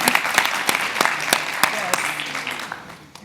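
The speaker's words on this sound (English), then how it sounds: "a round of applause" An audience at a panel discussion on just transition in Africa claps briefly, with loud, distinct individual claps standing out from a thinner spread of applause that tapers off within a few seconds.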